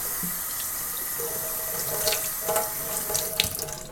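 Tap water runs steadily into a sink while sugar scrub is rinsed off, a close continuous hiss and splash with some shifting splatter as hands move through the stream.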